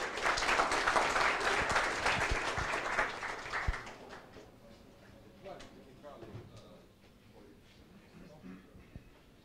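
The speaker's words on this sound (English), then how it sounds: "Okay, let's give them a round of applause." An audience applauds at a blockchain hackathon closing event in Belgrade, a loud burst of many hands clapping for about four seconds before fading to scattered claps, with voices and room noise after.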